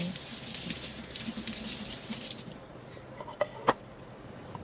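Corn cobs being washed in water in a home kitchen, with sloshing, splashing water for a couple of seconds, followed by quieter moments and a few sharp knocks and clatters near the end.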